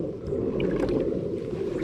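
A motorboat runs along a sandbar in Murrells Inlet with a steady, close engine drone. Water wash and some wind noise mix in throughout.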